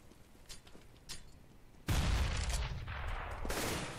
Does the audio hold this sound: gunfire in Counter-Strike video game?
yes